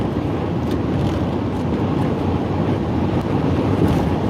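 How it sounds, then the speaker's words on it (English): Strong wind buffets the microphone on an exposed hilltop road between Kingman and Las Vegas, a continuous low roar with no pauses. "It's windy up here."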